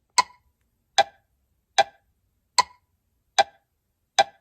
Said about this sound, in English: With the woodblock sound, it's not too bad without an external